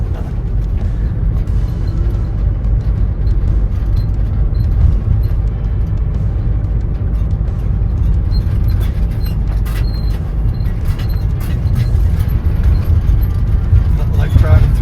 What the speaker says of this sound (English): Oop, bumpy road. It's a real bumpy road.